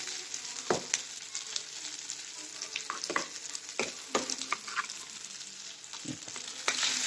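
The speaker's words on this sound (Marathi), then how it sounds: "आणखी मी पेस्ट चांगली भाजून घेणार आहे" Masala paste with chili, turmeric and coriander powder being roasted in a pan for a fenugreek leaf dish, a continuous close sizzle broken by frequent spatula scrapes and taps against the pan.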